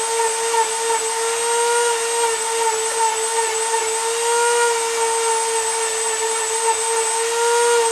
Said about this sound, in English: this side, I might have to basically Dremel this